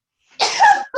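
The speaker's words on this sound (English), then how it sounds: "Now I have to sneeze." A single sharp sneeze bursts out close to the mic, breathy and explosive, lasting under a second after a brief quiet intake.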